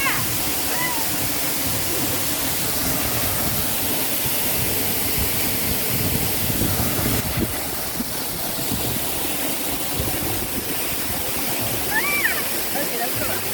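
A waterfall in Soufriere, St Lucia roars steadily from just behind the falling water, a dense, constant rush that fills the whole clip, with a few faint voices mixed beneath it.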